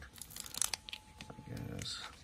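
Pokemon card blister pack being opened, quick crinkling and tearing of plastic and cardboard in a burst of sharp close rustles, followed by softer crumpling.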